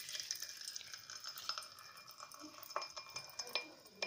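Popping candy crackles and pops sharply, fizzing in water, irregular and close, with occasional clinks like a spoon against a glass.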